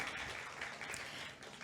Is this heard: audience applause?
yes